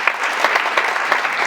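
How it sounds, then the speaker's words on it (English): A loud round of applause from attendees at a land summit, many hands clapping densely and continuously, close and full, with no voices. "we would like to give them a round of applause,"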